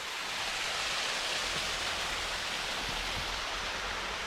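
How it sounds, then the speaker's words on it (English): Steady broadband rush of a waterfall cascading down into the River Ros beside old ruins in Alexandria Park, Bila Tserkva, constant and enveloping with no pauses or voices. "And the waterfall cascading down into the River Ros."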